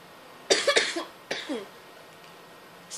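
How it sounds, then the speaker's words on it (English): One person with the flu coughs in a quick cluster of harsh bursts, then a second shorter cough follows, nearby in a quiet space. "you might be hearing a lot of coughing from me"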